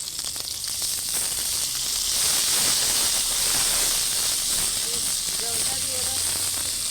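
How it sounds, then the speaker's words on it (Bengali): Ground paste of ginger, cumin, turmeric and chili sizzles in a hot pan, a steady bright hiss running the whole time with a few faint voices underneath. "আর এখন বেটে রাখা মশলাটা দিয়ে দেবো। ওইটার মধ্যে আদা বাটা, জিরে বাটা আর হলুদ বাটা, লঙ্কা বাটা সব পুরো একসঙ্গে বেটে নিয়েছি।"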